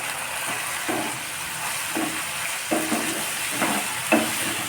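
Spice paste with a little sugar frying in oil for a vegetarian omelette curry, a steady close sizzle broken by regular scraping stirs about once a second.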